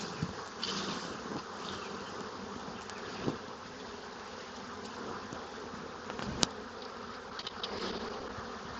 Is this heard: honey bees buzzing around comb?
yes